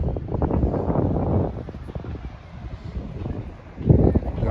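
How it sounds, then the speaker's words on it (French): Wind blowing at a beach, a steady low rumbling buffet against the microphone with gusts that swell and ease, strongest at the start and end, with no speech over it. "Il y a un peu de vent, j'ai le seum."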